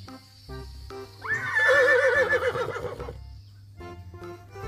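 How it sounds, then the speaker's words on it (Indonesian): A white horse lets out a loud, drawn-out whinny lasting about two seconds, with quieter shuffling before and after. "Wow, ini ada kuda putih."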